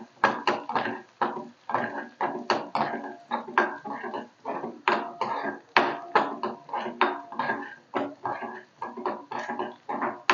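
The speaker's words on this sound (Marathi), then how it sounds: "कांदा अगदी बारीक कापून घ्यायचा." An onion being finely chopped on a board at home, with quick, crisp knife strikes repeating in an irregular rhythm. The strikes are close and clear, and no one talks over them.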